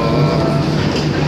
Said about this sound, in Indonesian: Nih, kereta api. Kereta api bawah laut.